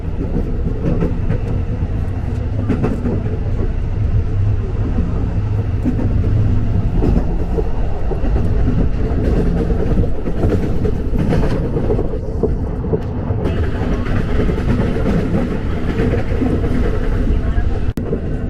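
A KRL TM 6000 series commuter electric train rolls steadily toward a station in Jakarta, with a continuous loud interior rumble and rail noise throughout and faint voices beneath.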